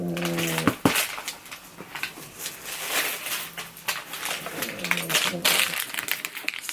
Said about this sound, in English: Right, I'm just going to remove the paper.